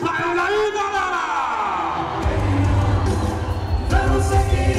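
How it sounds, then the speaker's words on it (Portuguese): A big crowd at a Christian festival yells and cheers loudly, close and sustained for several seconds, with a loud voice over it urging them on. "Quem crê em Jesus, dá um grito bem alto para ele aí, galera"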